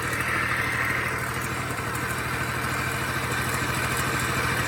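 A 1986 Honda Spree scooter engine idles steadily at close range after its plugged muffler was cleared, a continuous even putter with no talking.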